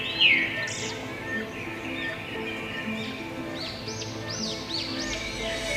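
Birds call and chirp at Al Areen wildlife park, with a series of short rising-falling calls in the later half over steady outdoor background noise, fairly distant and moderately faint.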